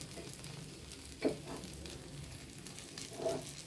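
Paniyaram batter frying in oil in a pan, a faint steady sizzle with a couple of soft stirring scrapes.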